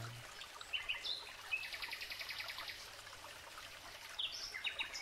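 Several birds chirp and trill at a moderate distance in a forest, with bursts of song scattered over a soft background hush of a flowing stream.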